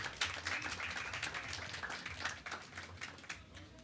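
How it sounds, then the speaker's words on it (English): Audience applause at a youth policy forum event as a guest walks to the stage, a faint, scattered clapping from a distant crowd sustained throughout. "A round of applause as he gets to the stage kindly."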